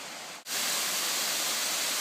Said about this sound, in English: There's some more of the falls.